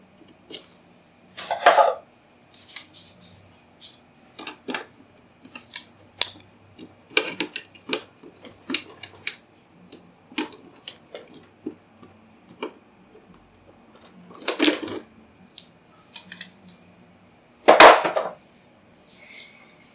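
Electrical tape being pulled and wrapped around a wire connection, giving scattered short ticks and crackles with louder tearing rasps, close and alone with no talk.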